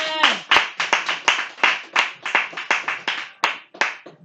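A church congregation clapping in unison to acclaim Jesus Christ, a run of sharp, evenly spaced claps in a quick rhythm, close and loud, with no talk over them.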